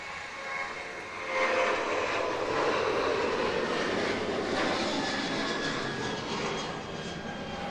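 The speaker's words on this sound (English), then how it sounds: "the Ryanair 737 departs heading for Berlin" A Ryanair Boeing 737 jet departs Manchester Airport bound for Berlin, its engine roar swelling after the first second and holding as a broad, steady whine and rumble at moderate distance before easing slightly near the end.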